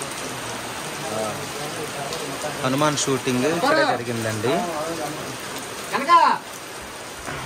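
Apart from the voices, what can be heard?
rain falling, with thunder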